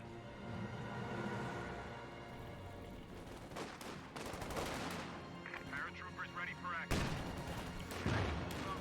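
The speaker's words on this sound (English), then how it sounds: "Taking time to fire some pot shots there, maybe trying to destroy the sandbags" Rattling small-arms fire in the World War II strategy game Company of Heroes 2, overlapping bursts and single shots at mid distance, with a heavier crack near the end and steady battle noise underneath.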